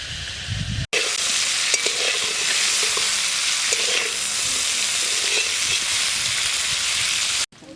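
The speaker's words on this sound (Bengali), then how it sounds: "সর্ষের তেল, ফুলকপিটা ভাজিয়ে নেব।" Cauliflower fries in mustard oil, a loud, dense, continuous sizzle like heavy rain that runs steadily from start to finish, with occasional faint stirring knocks.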